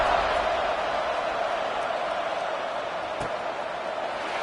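A college football stadium crowd buzzes after a score, a dense, steady roar of many voices that fills the whole stretch without pause.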